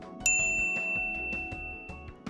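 A bright notification bell dings sharply once, its metallic tone ringing out and slowly fading over a soft musical backing.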